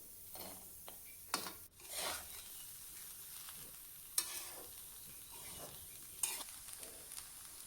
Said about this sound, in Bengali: এটা একটু নাড়াই দেবো এখন